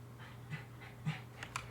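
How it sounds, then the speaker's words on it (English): A dog from the Super Seducer game pants and whimpers softly in quick rhythmic bursts, faint and fairly close over a steady low hum, with no clear full bark. "My dog started barking"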